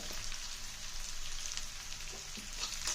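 Quiet, steady crackle of green chillies and spices frying in oil, a soft continuous sizzle heard on its own at low volume.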